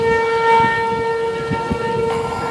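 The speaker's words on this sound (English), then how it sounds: "Tornado sirens going off right here." Tornado sirens wail steadily in Shawnee, Oklahoma during a severe storm, a sustained tonal howl with rumbling wind and crackling noise underneath.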